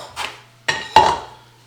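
Metal pot handled in a home kitchen while raw dog food is prepped, giving three short clanks and scrapes with a lighter knock first, then two louder metallic clatters close by, with no talk.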